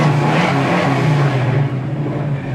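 Steady, loud idle and rev of a 1972 Chevy Nova's engine, heard close with a deep throb that eases slightly near the end.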